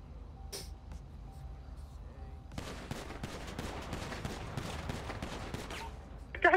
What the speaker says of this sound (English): The guy's shooting at the cops.